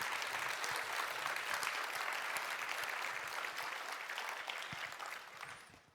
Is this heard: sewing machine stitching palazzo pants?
no